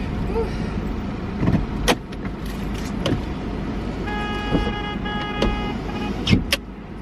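In Abidjan street traffic, a car horn gives a sustained honk in two stretches amid engine rumble and scattered knocks, while a person talks nearby.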